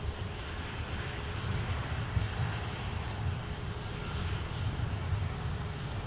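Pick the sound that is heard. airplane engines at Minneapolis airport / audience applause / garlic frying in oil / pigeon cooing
airplane engines at Minneapolis airport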